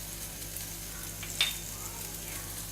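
Ground peas with red chili powder, turmeric, salt and chaat masala are stirred in a hot pan, giving a soft, even sizzle with one brief sharp scrape partway through.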